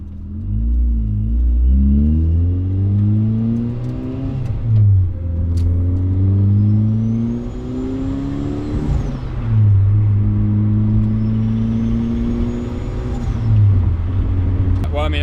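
Turbocharged Mazda Miata accelerating hard on a street, engine pitch climbing through repeated gear pulls with shift dips and turbo whoosh, loud and close throughout.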